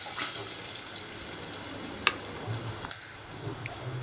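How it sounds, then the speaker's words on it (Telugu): Curry leaves crackle in a hot oil tempering for lemon rice, a soft, even sizzle with a few small pops and clicks, fairly quiet and without talk. "అలాగే కరివేపాకు కూడా యాడ్ చేసి బాగా ఫ్రై చేయాలి"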